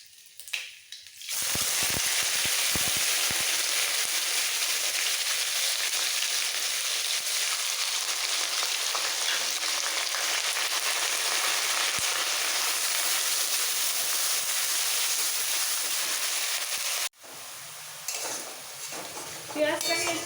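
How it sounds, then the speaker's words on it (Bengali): Steady, loud sizzling of onion paste frying in hot oil until browned, continuous for most of the clip, with a brief stir and clatter near the end. "পেঁয়াজ লাল করে ভাজা হয়ে গেছে"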